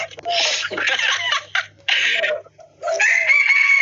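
A rooster crows loudly and close by in a few long, strained calls, with clucking and a low hum in the background.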